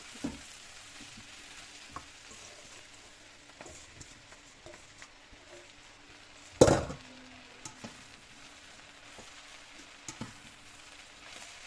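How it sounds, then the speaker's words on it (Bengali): Bread is stirred into poha in a frying pan, giving a steady soft sizzle with scraping stirs, scattered spoon taps and one sharp clank from the pan partway through. "এবারে আমি ব্রেডগুলো এর সঙ্গে মিশিয়ে দেবো"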